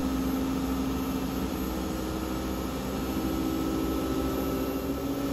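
A GE Profile Ultrafast combo washer dryer drum spinning at high speed near 1300 RPM, a loud steady droning whine with a constant hum, heard alone.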